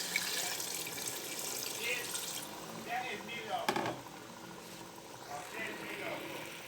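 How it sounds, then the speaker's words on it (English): Water splashes and trickles steadily into a pot of egusi soup, with a clink of metal partway through and faint kitchen noise underneath. "I'll add a little bit of water"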